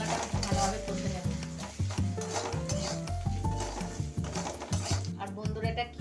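Spice paste seasoned with salt and sugar fries for palak paneer, with a spoon clinking and scraping against the pan in an irregular rhythm over a soft sizzle, close up, with background music underneath.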